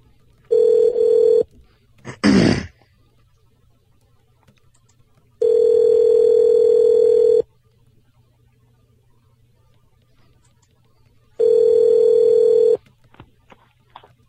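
Telephone ringing on an outgoing prank call to a seller, three long electronic rings separated by quiet gaps, with a brief burst of other noise between the first two.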